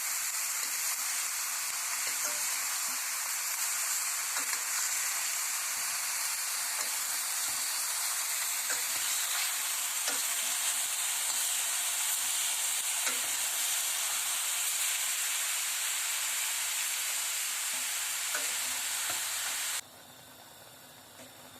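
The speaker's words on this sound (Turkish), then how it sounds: "Gördüğünüz gibi mühürlenmeye başladı hemen." Meat for Turkish kavurma searing in a hot pan, a loud, steady, close sizzle with crackling pops that holds for about twenty seconds and then drops slightly in level near the end.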